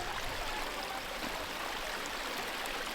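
A small creek running beside a hiking trail on Mont St-Hilaire, a continuous broadband rush and babble of flowing water, even and steady throughout, heard alone with no voices.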